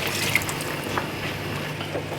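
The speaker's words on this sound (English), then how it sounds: "And then pour over the chicken stock" Chicken stock is poured into a pan of gravy, giving a steady, soft liquid splashing and trickling that runs continuously at close range, with no voices.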